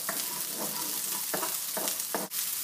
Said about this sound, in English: add the red onions. Start cooking those down.